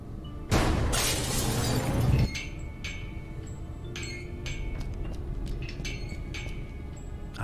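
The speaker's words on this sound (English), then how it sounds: "I got rid of the glass above the door to the lab." Glass above a lab door shatters in a Cthulhu adventure video game, one loud crashing burst of breaking glass lasting over a second, followed by faint tinkling debris and quiet ambience.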